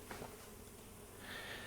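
Bees buzz in a video game beekeeping scene, a soft, steady insect drone that stays faint and continuous throughout, with a slight rise toward the end.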